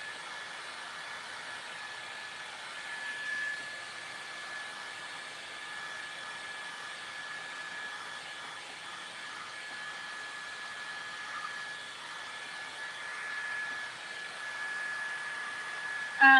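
A hair dryer blows on a snowman door hanger craft, a steady, even whirring hiss sustained for the whole stretch and ending in a short knock.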